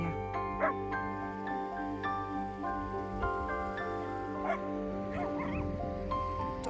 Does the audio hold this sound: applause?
no